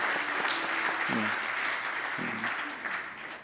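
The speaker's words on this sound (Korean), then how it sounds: "우리 박수하겠습니다" Korean church congregation applauding in a sustained, even round of clapping, with faint voices murmuring underneath.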